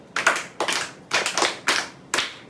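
Classroom clapping for a pupil: five short, distinct bursts of hand claps in a loose rhythm, close and fairly loud, with quiet gaps between them.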